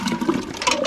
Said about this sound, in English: my favorite technique is to dip it in a vessel of water